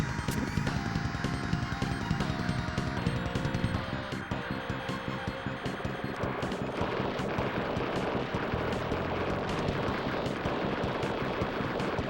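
Mini missiles firing in the SNES shooter Strike Gunner STG, a dense rapid stream of loud synthesized blasts and explosions over game music, continuous for the whole stretch.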